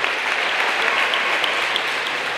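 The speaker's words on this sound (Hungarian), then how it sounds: "Magyar Jégkorong kabala figuráját, Csúszkát, egy nagy tapsot kérek szépen neki." An outdoor crowd applauds the ice hockey mascot at the opening of an ice rink in Ajka, Hungary, producing a dense, continuous wash of clapping that is loud and steady throughout.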